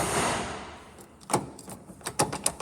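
An old International truck's door is shut several times in quick succession, giving sharp metallic clunks and rattles after a fading rush of background noise, fairly close and without talk.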